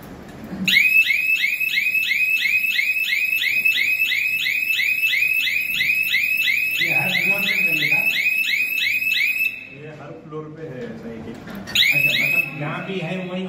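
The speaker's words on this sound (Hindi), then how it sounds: "नीचे अलार्म होगा, अभी मैं ग्लास नहीं ब्रेक कर रहा हूँ" A building fire alarm rings in rapid, steady loud pulses during a residential housing society fire safety drill, stopping briefly and then restarting while people talk nearby.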